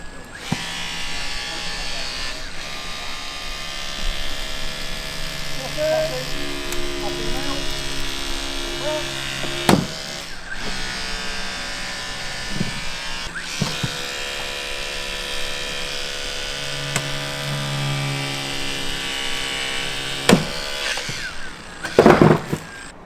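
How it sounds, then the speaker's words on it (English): Fire brigade hydraulic rescue cutters slice through a car with a sustained, harmonic motor whine. Several sharp cracks and bangs break through as the metal gives way, and people talk nearby. "that gives you a very brief insight into the capabilities of our cutters. Went through it like butter."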